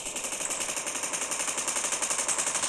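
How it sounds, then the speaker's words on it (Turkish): Rapid, continuous bursts of automatic gunfire from PUBG Mobile, a steady rattling stream with no pauses. "çok fazla silah sıktılar bu robotlarla."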